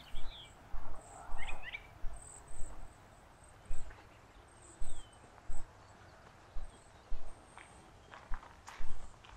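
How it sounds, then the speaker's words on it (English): Footsteps on an outdoor walk around historic Appomattox, Virginia fall in a steady rhythm of about a dozen crunchy steps, fairly close. Birds chirp faintly and briefly in the background. "It's not often when bird songs and the sound of my own footsteps are the loudest noises around."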